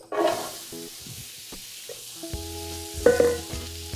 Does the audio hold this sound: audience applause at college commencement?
no